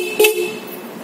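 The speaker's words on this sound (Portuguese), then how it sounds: "A buzina paquerinha." A single short, bright horn beep from a 1985 Honda CB 450 Custom motorcycle, close and fairly loud, lasting a fraction of a second against faint background noise.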